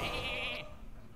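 A sheep bleats once in the card game Hearthstone, a short nasal bleat over a faint background of game sound, loud at first and then gone.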